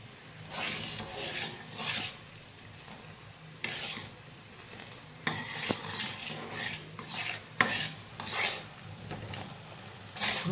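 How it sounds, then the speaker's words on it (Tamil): Amla gooseberries cooking in boiling sugar syrup in a pot, with bubbling, hissing sizzle and repeated scraping stirs of a spoon against the pan, coming in bursts with short quieter gaps. "இப்போ வந்து நம்ம நெல்லிக்காயை போடணும்."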